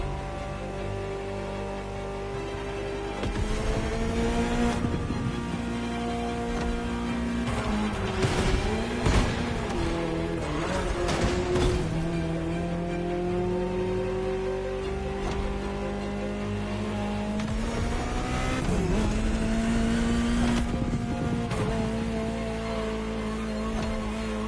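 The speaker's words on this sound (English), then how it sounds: "Just listen to the car you're driving." In The Crew Motorfest video game, a Ferrari supercar engine revs and drones, its pitch climbing and falling through gear changes, with a few sharp transient bursts along the way, all heard alone without voices.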